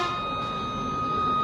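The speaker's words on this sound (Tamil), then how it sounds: "இது வழியாக வந்துச்சுன்னா நமக்கு இதில் ஒரு பீப் சவுண்ட் வரும்." A continuity tester on a set of bike mechanic tools emits a steady, unbroken electronic beep tone that holds at an even level from start to finish, with no talking.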